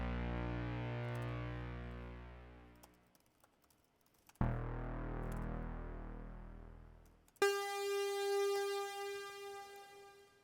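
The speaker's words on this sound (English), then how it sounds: "Just kind of a chorusy, detuned saw wave cluster." SuperCollider saw waves play as a chorusy, detuned synth cluster: sustained buzzy tones that fade out, cut off, restart, then a brighter tone with steady harmonics, clean and close.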